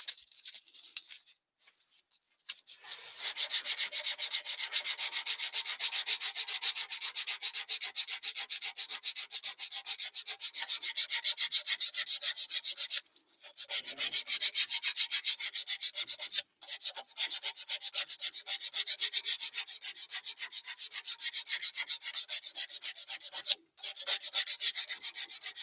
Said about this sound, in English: I'll give that a quick sandy sand.